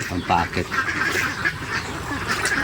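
Ducks raised for salted eggs quack and honk busily at a duck pen, close and loud, with a person talking over the flock.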